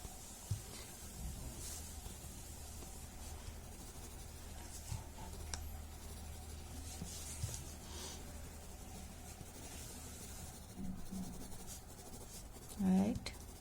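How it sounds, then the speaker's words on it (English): A pencil lays thick graphite onto paper in steady, close scratchy strokes that run continuously at a soft level, with a louder handling rustle near the end. "I'm just adding some graphite in between. Adding some thick graphite."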